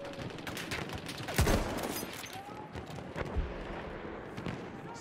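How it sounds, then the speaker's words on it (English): Battlefield 1 gunfire in a Sinai desert battle, with sharp bursts and shots cracking through a dense wash of battle noise, the loudest around the middle and near the end, with faint voices underneath. "There's a machine gun!"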